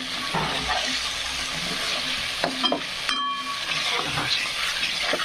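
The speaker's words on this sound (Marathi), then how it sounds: "छानपैकी आपल्याला असे मसाले फ्राय करून घ्यायचे आहे" Spices for a mutton rassa curry fry in hot oil with a continuous, close sizzle, marked by a few spoon clinks and scrapes against the pan; no talking is heard.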